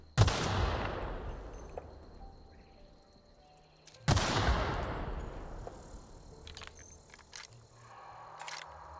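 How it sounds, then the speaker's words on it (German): Gunfire in The Outer Worlds, shooting at mines. Two loud, close blasts each ring out and decay over several seconds, with faint clinks and scattered small impacts in the tail. "Wir schießen mal auf die Minen und gucken, ob da Gegner sich befinden."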